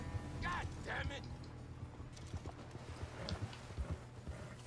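Hooves clip-clop faintly in Red Dead Redemption 2 Online, a few scattered soft thuds from a horse on snowy ground, with tack creaking and a low rumble; the opening is mixed with speech-like tones.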